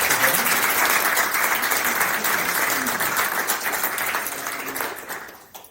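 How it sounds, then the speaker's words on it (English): An audience at a talk on extreme wealth and society gives warm, sustained applause that stays steady and loud, then tapers off at the end. "Warm applause for Danny."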